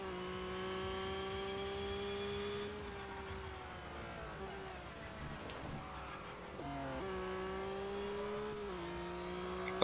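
A flat-four car engine in the racing game Real Racing 3 drones steadily at moderate volume, with two clear gear shifts that drop the pitch before it climbs again, accompanied by a faint whine and no talking.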